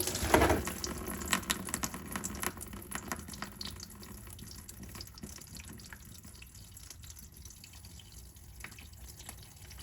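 Water draining from the cooling system of a BMW E36 with a blown head gasket, a steady trickling flow with a louder splash at the start that then settles into a continuous low pour.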